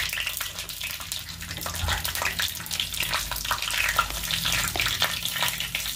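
Homemade chips frying in hot oil, a dense, close crackle and bubbling that stays steady and busy from start to finish, with no talk over it.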